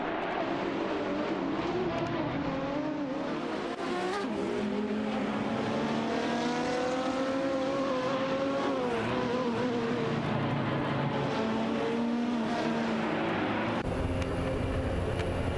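Race cars in a video game, including a Porsche 917 and a Lola, drone and rev continuously with engine notes rising and falling as they jostle on track, a dense steady roar throughout.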